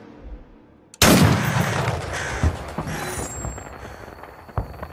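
Gunfire from a mobile shooter game trailer: a sudden loud blast opens it, followed by a sustained roar with scattered sharper reports and a final crack near the end.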